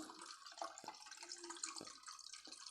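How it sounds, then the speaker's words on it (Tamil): Tamarind water being poured slowly through a strainer a second time in a home kitchen, a soft continuous trickle with splashy drips, faint and alone. "புளி தண்ணியை கொஞ்சம் கொஞ்சமாக ஊற்றணும்"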